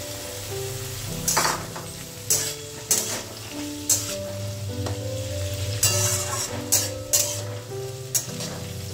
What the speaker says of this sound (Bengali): এই অবস্থায় আমি কিন্তু সিমগুলো দিয়ে দেবো, একসাথে দুটোকে ভাজবো।